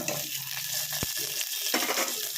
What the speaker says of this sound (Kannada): ಇದೆಲ್ಲ ಹಾಕಿ ಫ್ರೈ ಮಾಡ್ಕೊಳ್ಳೋಣ